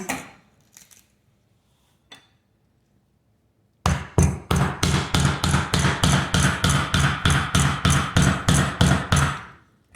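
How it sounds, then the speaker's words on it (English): A hammer strikes a Thai coconut in a steady run of hard, sharp knocks, roughly three per second, after a few quiet taps and a pause. "I wonder what would happen if I like hit it with a hammer"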